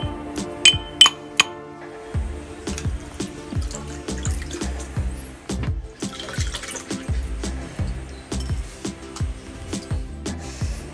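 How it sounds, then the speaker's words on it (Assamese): Ingredients being pounded for a homemade summer drink with water added, a steady run of dull thuds with bright clinks mixed in, near and fairly loud, no talking. "এইখিনি খুন্দি ল'ম"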